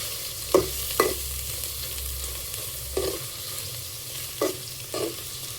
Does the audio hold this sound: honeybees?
no